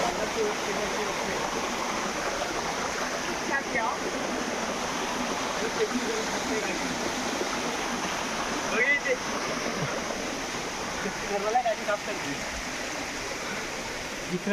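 Stream water flows steadily at Pavankhind, a continuous close rushing wash with faint voices occasionally under it.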